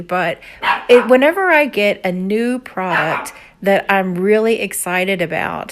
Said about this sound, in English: I'm sorry for my dog barking.